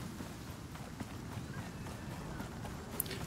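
Faint, steady hoof clip-clops from a horse in the survival game Icarus, a soft repeating rhythm heard at a distance under low ambient game noise.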